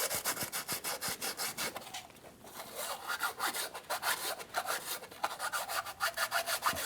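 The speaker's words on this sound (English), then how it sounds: "The reason why we're using a block with the sandpaper is that this is an aluminum head" Sandpaper on a block rubs across the gasket surface of an aluminum cylinder head in a steady series of scratchy back-and-forth strokes, close and continuous with a brief pause midway.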